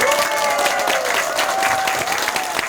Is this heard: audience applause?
yes